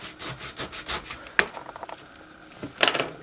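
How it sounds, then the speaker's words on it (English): A plastic scraper rubs vinyl stencil film down onto a surface during a Cricut stencil project, giving repeated short scraping strokes, soft and close, with sharper bursts near the middle and end. "And so now I'm gonna scrape the bottom down."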